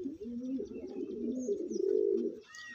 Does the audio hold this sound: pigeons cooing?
yes